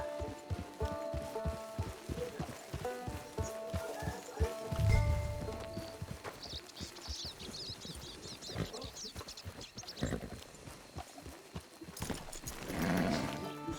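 Horse hooves clip-clop steadily in Red Dead Redemption 2 Online, a rhythmic stream of close hoofbeats joined by a brief whinny and some game ambience, with no talk.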